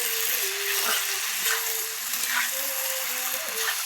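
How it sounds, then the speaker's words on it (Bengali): Chicken skin fries in a pan at home with a continuous, close sizzle and crackle, while a faint voice or tonal hum runs underneath. "চিকেনের ছাল মানে ছাঁট রান্না হচ্ছে গাইস।"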